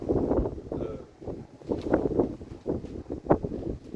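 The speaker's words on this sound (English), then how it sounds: "Winds, it's a lot of wind here, man." Strong outdoor wind buffets the microphone in uneven, rumbling gusts that swell and fade across the clip, with low blustery noise throughout and no voices.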